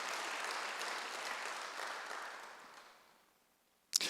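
A church congregation at a Sunday service applauds, a broad wash of clapping that fades out over a few seconds into near silence before a single sharp knock.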